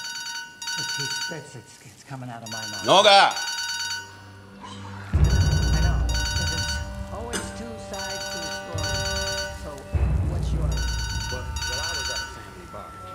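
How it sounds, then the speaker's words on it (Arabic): A mobile phone rings with a melodic electronic ringtone that repeats in loud bursts, with a short spoken word and other sounds between the rings. "موبايلك بيرن، اديتي نمرتك لحد؟"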